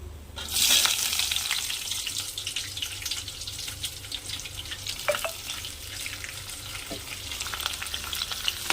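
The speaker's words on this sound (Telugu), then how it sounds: "ఇప్పుడు ఫస్ట్ ఆనియన్స్ వేసుకుందామండి." Onions sizzle and fry steadily in hot oil for mint pulao, a close, continuous crackling hiss that starts with a burst as they hit the pan, with a few faint clinks of a utensil and no speech.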